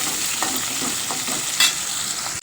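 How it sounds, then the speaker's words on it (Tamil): Onions, green chillies and spices sautéing in a pan, a close, steady hiss of frying with soft stirring scrapes running throughout. "வெங்காயம் பச்சை மிளகா எல்லாம் போட்டு வளர்க்குறோம்"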